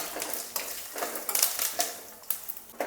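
Coriander chutney being mixed by hand with tamarind in a bowl, heard as a series of clinking, scraping knocks against the dish at an irregular rhythm, close up and with no talk.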